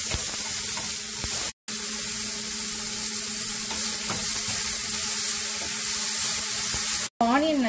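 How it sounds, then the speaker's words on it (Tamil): Chopped onion frying in a pan gives a steady, close hiss and crackle that runs almost without a break, with two brief cut-outs. "இப்போ ஆனியன் கொஞ்சம் கலர் சேஞ்ச் ஆகிற வரைக்கும் ஃப்ரை பண்ணிக்கலாம்."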